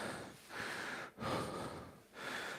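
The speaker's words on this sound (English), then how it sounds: "we'll take a minute to catch our breath" Heavy breathing after kettlebell swings and presses, several slow deep breaths in and out, close and fairly quiet, with no speech.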